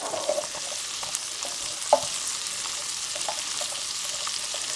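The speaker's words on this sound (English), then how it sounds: "I'm basically going until the onions start to clarify" Chopped vegetables and onions sauté in a metal canteen cup, with a steady close sizzle and occasional light scrapes and taps of stirring, no talking.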